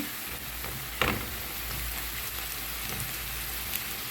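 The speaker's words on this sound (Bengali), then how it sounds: "এখানে আরেকটু অয়েল তেল দিয়ে আমি পেঁয়াজটা হালকা বাদামি করে ভেজে নেব" Onions browning in oil, part of a spicy bain (eel) fish bhuna, crackle with a steady, dense sizzle throughout, with one sharp tick near the start and no voices.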